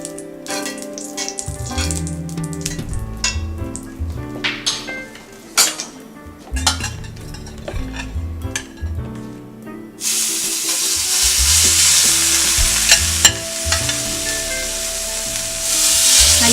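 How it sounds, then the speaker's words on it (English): Salmon frying in coconut oil in an already hot pan: clattering and clinking of utensils and pan first, then a loud, steady sizzle that takes over for the last several seconds, heard up close. "we're adding some coconut oil to the pan that is already hot, and we'll get our fish going right in there"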